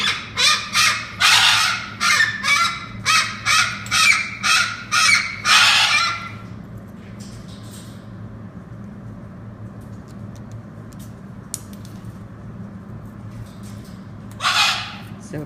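An African pied crow calls in a rapid series of about a dozen loud, harsh caws close by, then goes quiet over low background hum before one more brief call.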